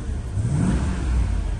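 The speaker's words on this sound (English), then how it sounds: "Starts up just like that. No warning lights on." A 2002 Bentley Arnage Red Label idles steadily at close range after starting, a smooth, quiet, continuous low engine hum with no voices over it.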